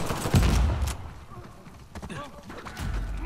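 Gunfire in Uncharted: The Lost Legacy, several sharp shots and bursts crackling near and mid-distance in irregular clusters, with a person talking over parts of it.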